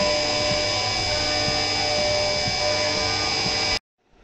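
CNC machine cutting a Zundapp 5-speed engine part, a loud sustained whine with steady tonal ringing and faint periodic ticks, cutting off abruptly near the end into near silence.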